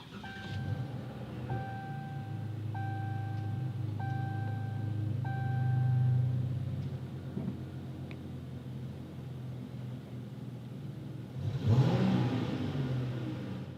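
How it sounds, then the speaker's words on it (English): A 2018 Dodge Challenger SXT Blacktop engine starts by push button, with a brief chime pattern in the cabin and a steady low engine rumble that swells near the end as the car idles up. "You put your foot on the brake and push this button to start it."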